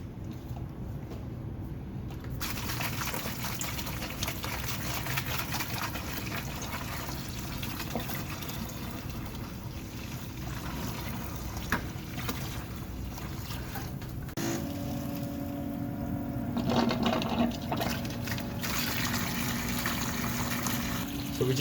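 A pump pushes vinegar through a tankless water heater during a descaling flush, producing a continuous gurgle and rushing of liquid. A low motor hum rises near the end, and there is no talk.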